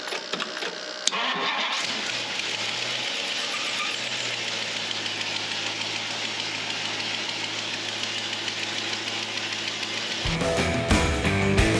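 A 1962 Mercury with its fuel pump hooked up turns over and catches after a short pause, then settles into a steady idle with a high whining squeal. The engine revs up louder just before the end.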